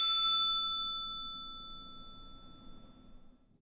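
A single bright ding from the bicycle bell on a Schwinn hybrid bike, close and clear, its ring slowly fading over a few seconds.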